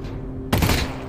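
A single gunshot blast from an upgraded weapon in Half-Life: Alyx, abrupt and loud with a short decaying tail, set against a low steady hum.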